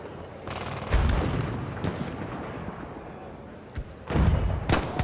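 Pistol shots in a first-person shooter video game, a few sharp booming reports at irregular intervals over a noisy battle background.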